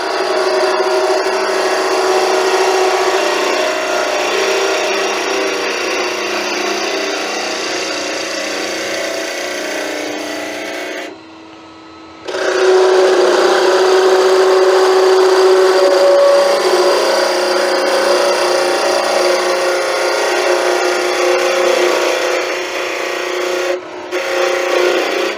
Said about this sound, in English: So I'll go to my Continental gouge, which is my preferred weapon for doing wands.